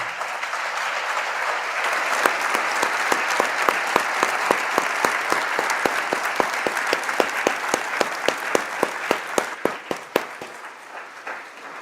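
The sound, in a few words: audience applause for veterans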